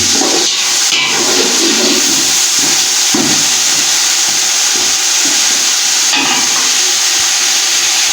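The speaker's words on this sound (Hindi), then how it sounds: "4 से 5 मिनट तक इसे अच्छी तरह से बीच में भूनेंगे" Beef and spices for yakhni pulao frying in a pot, a loud dense sizzling hiss with scraping and knocking of a spoon as the meat is stirred, close and with no one talking.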